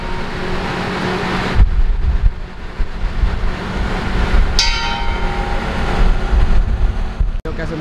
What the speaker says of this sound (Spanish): Mucho aire por acá.